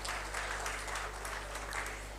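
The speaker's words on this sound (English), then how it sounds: "A huge round of applause for Dr. Aisha Khan." Audience applause at a high-level dialogue on Pakistan's roadmap for COP 28, greeting Dr. Aisha Khan: a steady, moderately faint wash of clapping from the crowd, held evenly throughout with a low constant hum beneath.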